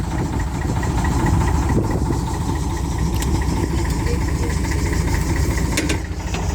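A diesel fuel boat's engine runs close alongside a narrowboat on a dark evening. It makes a steady, close, throbbing rumble with a faint knocking pulse, unbroken throughout with no talking.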